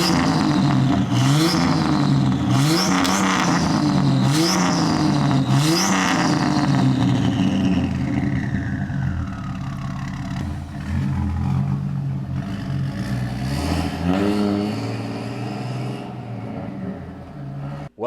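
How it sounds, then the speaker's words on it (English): Turbo Jeep with an exhaust built from junk and leftover parts revs hard several times, loud rising and falling engine sweeps with a turbo whistle riding on top, then settles into lower rumbling, no talking. "A turbo Jeep exhaust built entirely out of leftovers, questionable decisions, and just enough luck to hold it all together."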